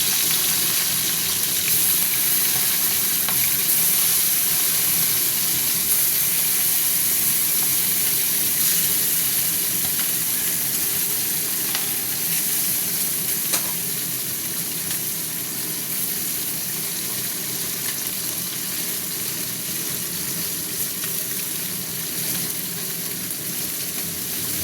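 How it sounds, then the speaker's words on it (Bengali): Amudi fish fry in hot oil in a pan, a continuous soft crackling sizzle that holds steady for a long stretch, with faint occasional clinks and no speech. "মাছ ভাজা হতে থাক।"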